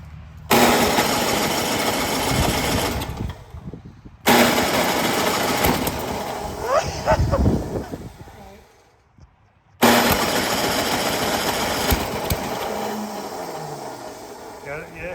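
A seized Ariens snowblower engine cranks and grinds loudly in bursts that stop abruptly, with a short pause before it restarts, and voices talk over the harsh mechanical noise.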